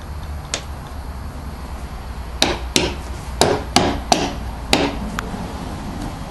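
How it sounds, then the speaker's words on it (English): Several sharp hammer strikes ring out in an uneven series as a magnet is hammered into a pet door frame, loud and close, with quieter pauses between blows. "we'll just hammer the magnet in"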